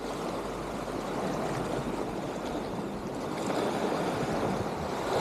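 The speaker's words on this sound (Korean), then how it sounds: "파도가 여기까지 올라오네요." Ocean waves surge up the rocky shore at high tide near Beomseom island during night squid fishing, a continuous heavy wash and rumble with wind buffeting the microphone, swelling slightly toward the end.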